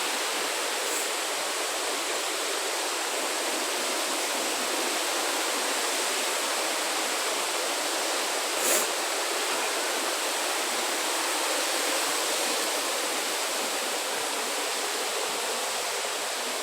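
A waterfall in Lamington National Park roars as a steady, loud broadband wash of falling water, unbroken and close, with no voices over it.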